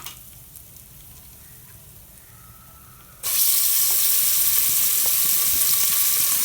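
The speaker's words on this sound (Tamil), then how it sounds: "நம்ம க்ளீன் பண்ணி வச்சுருக்கிற மட்டனை இதில் போட்டு வதக்கிடலாம்" Cleaned mutton dropped into hot oil with garam masala, quiet low rumble at first, then a sudden loud, steady sizzle that stays strong to the end.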